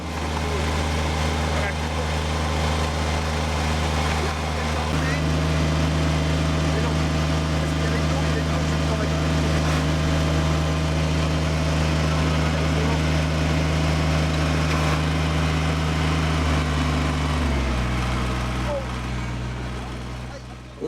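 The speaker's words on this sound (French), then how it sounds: "On utilise pour réaliser les trous un micro-tractopelle, donc c'est à la base une tondeuse qu'on a un petit peu modifiée" Micro backhoe built from a modified lawn mower, used for digging tree-planting holes, runs with a loud steady small-engine drone that shifts pitch partway through and fades slightly at the end; no talk is heard over it.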